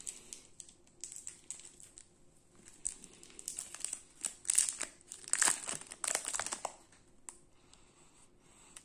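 Plastic wrapping crinkles and rustles as a package of pistachio-flavored food is opened, close and faint, in irregular bursts of crackling that build in the middle and then trail off.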